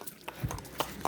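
A horse at Mount Abu gives a few quick hoof clops in a brief burst, faint and close, with a person talking over them.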